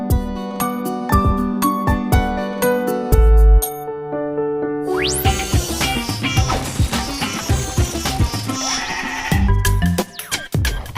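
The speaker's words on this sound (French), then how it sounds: "la brebis ensuite mange ces fourrages-là" Sheep bleat repeatedly, sometimes overlapping, among ringing bells and chimes in a busy, layered mix of loud pastoral sounds.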